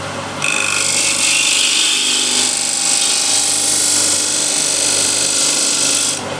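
A spindle gouge cuts into a picture frame spinning on a wood lathe, giving a loud, steady rasping hiss that starts abruptly and holds unbroken for several seconds, with no talking.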